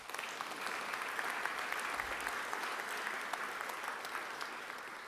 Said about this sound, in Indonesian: Ini kita harus tepuk tangan.